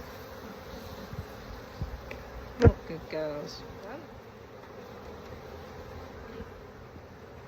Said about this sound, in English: Aren't these lovely bees?